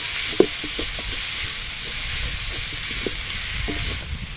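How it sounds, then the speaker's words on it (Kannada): Fenugreek leaves sautéing in a hot pan, a constant bright sizzle with scattered soft pops and stirring scrapes throughout. "ಮೆಂತ್ಯ ಸೊಪ್ಪು ಹಾಕ್ಬಿಟ್ಟು ಚೆನ್ನಾಗಿ ಬಾಡಿಸ್ಕೋಬೇಕು"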